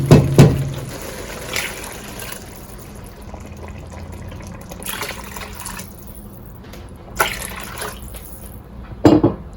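Water poured into fried dal mash in a cooking pot, a sustained pouring and splashing sound, close and fairly loud, with a few louder clatters at the start and near the end.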